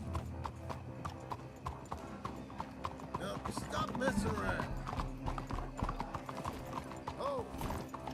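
Horse hooves clip-clop in an irregular rhythm through a Wild West town in Red Dead Redemption 2, close and clear, with a horse whinnying and people talking over the hoofbeats.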